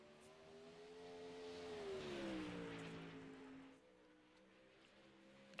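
A 360 sprint car on a qualifying lap at Lanier Speedway roars past, its engine pitch rising as it nears, then sliding down as it moves away into a distant drone.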